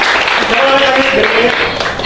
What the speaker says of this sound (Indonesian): Oke, tepuk tangan, terima kasih semuanya.